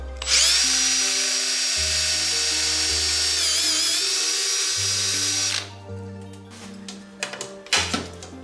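A loud, high-pitched power drill whine runs steadily for about five seconds, wavering slightly, then cuts off, followed by scattered clicks and handling noises, while building a Fairlight CMI synthesizer.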